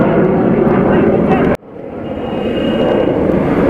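A fighter jet passes overhead during a military practice flight near Amritsar, a loud broadband roar that cuts out sharply partway through, then swells again as another jet follows.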